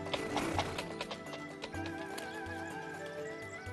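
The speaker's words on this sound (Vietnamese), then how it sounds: "Đúng là một con ngựa tốt." A horse whinnies over clip-clopping hooves in a period drama scene, with scattered hoof taps and a tonal neigh running through dense background music.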